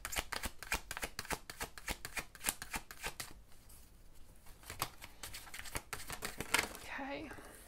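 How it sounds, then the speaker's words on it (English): Tarot cards being shuffled a short way off, a rapid series of crisp riffles and flicks in quick bursts with a brief pause midway. "I'm gonna do this shuffle away from the microphone"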